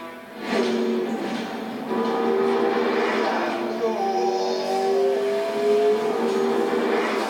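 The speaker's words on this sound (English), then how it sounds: "The electric motor and the big V8 generator are working together so that I have at my disposal 903 brake horsepower." A McLaren P1 hybrid supercar with a V8 engine and electric motor drives along, its engine note swelling and rising through gears in a steady, moderately loud roar.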